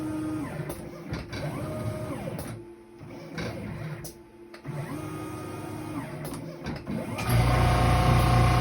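A computerized mat cutter in a custom framing shop slices a picture frame mat with whirring motor sweeps and rising and falling mechanical tones, close and steady, ending in a louder droning hum.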